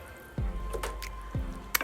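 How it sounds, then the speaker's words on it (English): Thick red pea stew with pigtails stirred in a pot, giving a few soft wet squelches and drips at close range, with no talking. "And then I'm gonna stir it"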